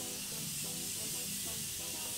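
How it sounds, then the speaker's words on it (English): A Morphe Continuous Setting Spray mists onto a face, a steady close hiss lasting about two seconds without pause. "So I'm just gonna spray my face."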